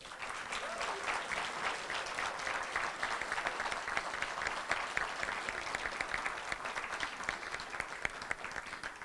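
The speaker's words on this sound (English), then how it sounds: "And now you can give your applause." Audience at a mayoral debate applauds the candidates with steady, dense clapping that carries on for the whole stretch, fairly faint and distant.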